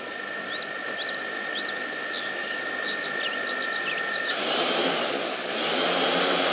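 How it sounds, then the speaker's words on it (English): Turnigy Multistar Elite 4006 740kv multirotor motors spinning up, a loud steady high-pitched whine that holds level, then rises in intensity partway through, with faint bird chirps in the background. "I'm going to go ahead and fire it up. See him spinning."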